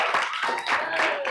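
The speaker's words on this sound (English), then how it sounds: "Please, no clapping." An audience claps during a city council meeting, a brief burst of scattered hand claps with a voice partly heard alongside.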